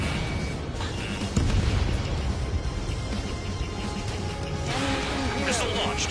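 Missile explosions in a jet combat video game make a dense, continuous roar of blasts and engine noise, with a voice talking over the steady din.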